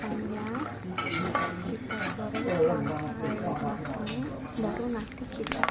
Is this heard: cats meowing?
no